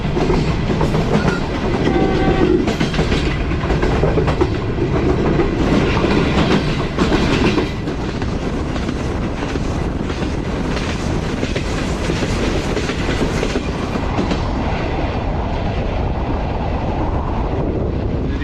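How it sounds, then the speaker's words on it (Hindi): A train runs through Sohawa railway station, heard from inside the guard's compartment: a loud, steady rolling roar with rhythmic clickety-clack of wheels over rail joints, easing slightly after the first half and continuing close and unbroken. "ट्रेन अभी हमारी पास थ्रू हो रही है सोहावा रेलवे स्टेशन से"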